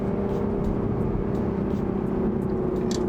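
A manual 2024 Toyota GR Supra accelerating on a damp road, heard as a loud, steady engine drone with dense road and tire roar, no gaps, continuous throughout.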